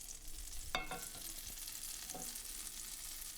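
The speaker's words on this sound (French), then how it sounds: "On va faire fondre du beurre, plein de beurre sur une poêle bien chaude." Lots of butter melting in a very hot frying pan for thin Danish pancakes, giving a steady soft sizzle with a couple of brief scraping or clinking touches, heard alone without talk.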